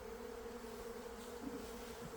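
Eastern honeybees from a newly arrived swarm buzz around the hive in a steady, even hum, close but faint, with no voices over it.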